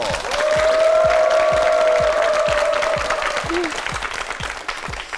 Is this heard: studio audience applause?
yes